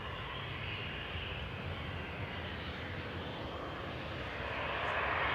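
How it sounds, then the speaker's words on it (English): An Embraer E195 airliner at Manchester Airport roars steadily with strong broadband engine noise, growing slightly louder toward the end, with no voices. "this is an E195, an Embraer"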